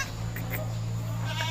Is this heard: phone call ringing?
no